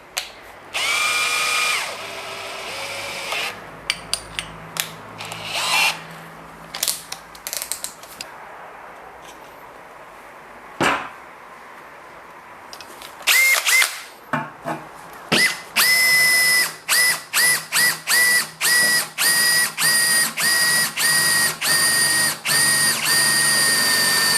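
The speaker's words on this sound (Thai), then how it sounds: "มาดูกันที่ดอกสว่านตัวใหญ่ตัวนี้นะครับ น่าจะประมาณ 12 มิลนะผมจำไม่ผิดตัวนี้" Cordless impact drill, a DeWalt DCD805 or Makita DHP487, boring with a large 12 mm bit: loud bursts of motor whine start and stop, then end in a fast run of short repeated pulses, with no talking.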